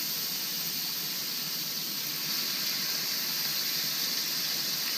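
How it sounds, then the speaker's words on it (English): Small batches of carne asada sizzle in a hot pan, a steady, even hiss that holds without a break and no talking over it. "Yep, hear that sizzle."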